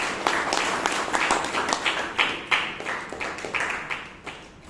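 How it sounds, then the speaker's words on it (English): Audience applause at a Toastmasters club meeting in Bangalore, a room of people clapping with individual claps audible, moderately loud and close, easing off toward the end. "one big round of applause to everyone"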